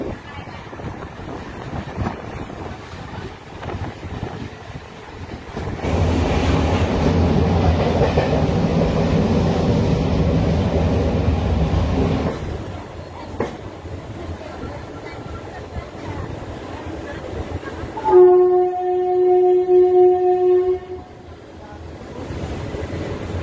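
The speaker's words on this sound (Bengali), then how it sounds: "বার্নপুরের 2 নম্বর প্ল্যাটফর্মে এসছে আমাদের ট্রেন" Ranchi–Asansol MEMU passenger train arriving at Burnpur station platform 2, with a loud, steady rolling rumble for several seconds that then eases off, followed by a clear horn-like tone near the end.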